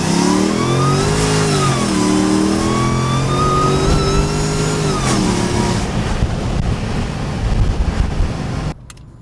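A Mercedes E55 on Mickey Thompson drag radials accelerates hard, its engine note climbing loud and close through two rising pulls. It then fades into road and tire noise before cutting off.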